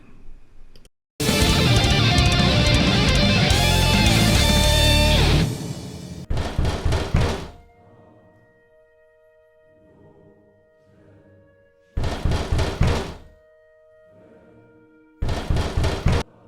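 Knocking on a door comes in several short, sharp clusters of raps separated by pauses, heard between stretches of loud music and a quieter sustained tone.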